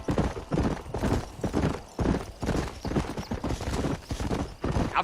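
A horse trots steadily in the Red Dead Redemption video game, its rhythmic clip-clop of hooves loud and continuous throughout, with no voices over it.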